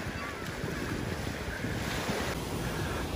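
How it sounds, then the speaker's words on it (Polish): Ocean surf rolls in at Patong Beach on Phuket during low tide, a constant wash of breaking waves mixed with wind buffeting the microphone, with no talking. "Też większa fala idzie."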